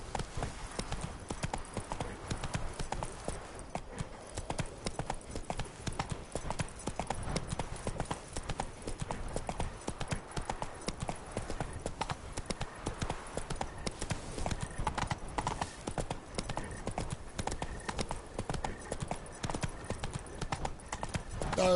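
Horse hooves gallop in the video game Witcher 3, a steady rapid clip-clop running continuously and fairly loud, with an occasional faint whinny.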